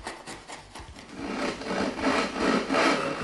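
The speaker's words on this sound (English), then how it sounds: "The trench is bottomed out with a hand router or by paring and testing for flat." Hand router or chisel paring the bottom of a timber trench, a close dry scraping and rasping on wood that starts in light strokes and grows into a steadier, louder rub.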